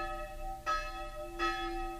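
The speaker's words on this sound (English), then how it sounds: "In the church towers, there often hangs but one bell, the smallest one, the funeral bell." A lone church bell, the small funeral bell left hanging in a European tower after the war, strikes twice at an even pace, each stroke ringing out over a steady, sustained hum of overtones.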